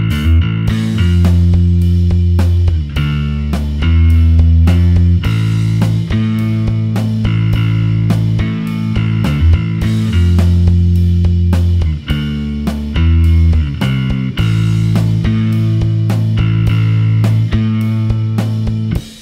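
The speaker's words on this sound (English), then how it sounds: "Next up, let's have a look at the chorus riff, which sounds like this." Bass guitar playing a chorus riff, loud, close and clean, with punchy repeated low notes and slides in a steady rhythmic pattern, no voices.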